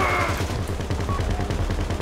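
Rapid bursts of gunfire from the GTA video game crackle continuously in a fast, rhythmic, loud stream.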